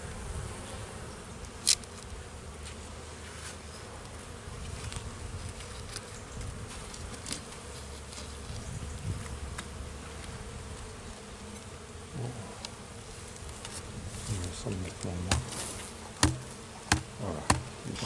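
A honeybee colony in an opened hive being prepared for wintering hums as a steady soft buzz throughout, with faint knocks and clicks of hive handling toward the end and no talking.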